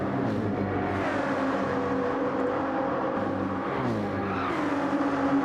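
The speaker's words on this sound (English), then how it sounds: "But there you go, 5 cars there, battling it out now." Several race cars in Gran Turismo 7 battle wheel to wheel at Tokyo East, a steady, loud layered engine drone with shifting whines and brief skids throughout, with no talking.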